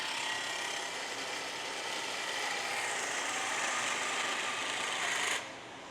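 A notching fixture in a trike factory cutting notches into a chainstay tube, heard as a continuous loud grinding, whirring machine noise held for about five seconds before it cuts off abruptly, with no talking.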